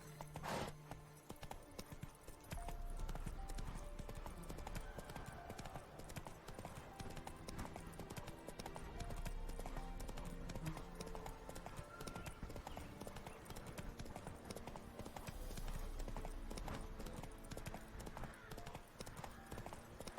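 Horse hooves clip-clop steadily as a mount is ridden at pace in the Witcher 3 game world, a close rhythmic beat running throughout with a brief whinny early on and light chatter in the background.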